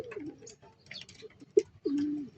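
Pigeons cooing at a loft, several close throaty coos and a short wing-flap-like knock, with quiet gaps between calls.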